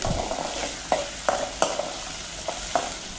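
Curry leaves, onion and green chilli frying in oil while being stirred, a close hissing sizzle punctuated by six or seven sharp spatula scrapes at a roughly regular pace, no talk.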